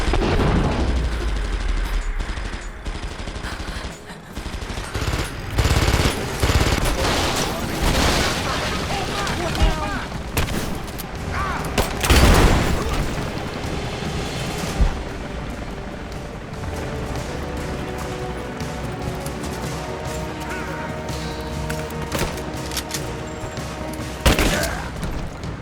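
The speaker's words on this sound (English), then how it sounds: "Contact! Give me covering fire!" Dense bursts of gunfire and booming explosions in the video game Rise of the Tomb Raider, a loud, continuous barrage with sharper blasts standing out, mixed with some voice.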